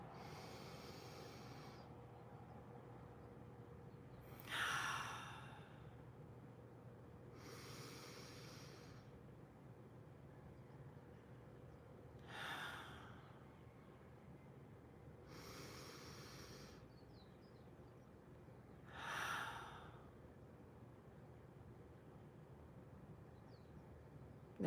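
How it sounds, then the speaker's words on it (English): Six slow, deep breaths in and out at close range, each a long airy rush of several seconds separated by quiet pauses over a low steady room hum. "breathe in and out 3 times, really big breaths."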